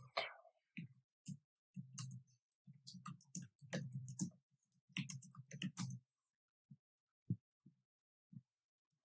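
Typing on a computer keyboard to write a message, a close, quiet sequence of quick key clicks in uneven bursts, thinning out into a few isolated taps near the end.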